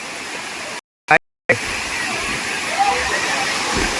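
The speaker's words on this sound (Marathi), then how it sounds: "मस्तच वॉटरफॉल आहे कोकण कडा" Waterfall at Kokan Kada near Panvel, Maharashtra, a steady broadband rush of falling water with two brief dropouts early on, people faintly talking nearby.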